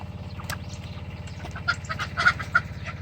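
Soft clucking from chickens and peeping from chicks nearby over a steady low hum, with a few sharper calls standing out.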